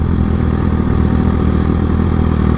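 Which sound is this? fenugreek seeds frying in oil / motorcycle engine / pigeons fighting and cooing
motorcycle engine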